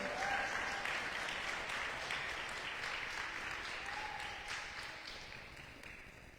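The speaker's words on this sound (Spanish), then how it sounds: "Denle un aplauso al Señor" Church congregation applauding during a sermon, a broad sustained round of clapping that gradually fades, with faint voices calling out over it.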